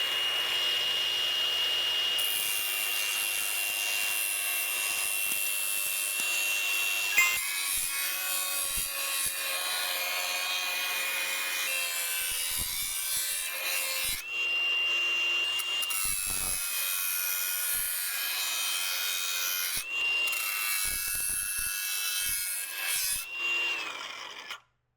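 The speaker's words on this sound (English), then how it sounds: "Now watch what happens when I actually grind this material with the disc." A metal grinding disc on a power tool abrades metal plate in a steady, continuous high rasping whine lasting throughout, close and loud, with brief pitch dips as the load shifts.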